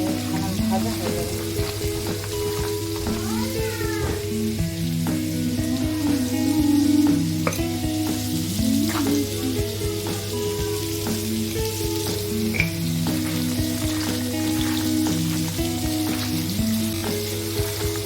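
Vegetables coated with salt and turmeric frying in a pan, a steady close sizzle with occasional stirring scrapes and a constant low hum in the background.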